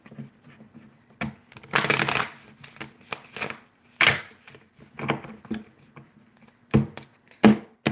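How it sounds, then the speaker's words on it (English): Brisk bursts of tarot cards being shuffled, papery riffles and snaps repeating in short clusters, close up with quiet pauses between. "One more shuffle."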